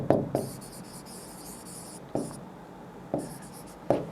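A marker or chalk writes on a board in short scratchy strokes, with a few soft taps as it meets the surface; a quiet teaching room and no speech.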